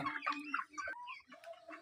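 Bahama chickens, a breed with feathered feet, cluck and call repeatedly at close range, with short overlapping squawks and trills and no talking.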